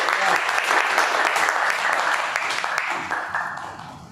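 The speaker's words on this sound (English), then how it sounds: "we must give a huge applause" Applause from the audience at a Toastmasters club meeting, a dense wash of many hands clapping that carries on for several seconds and fades slightly toward the end, with no talking.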